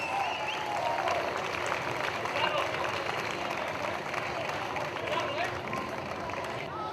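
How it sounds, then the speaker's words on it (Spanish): Steady applause from a crowd at an evening performance during a town festival, continuous and fairly dense throughout with a hubbub of voices mixed in. "¡Ay, fuertes aplausos!"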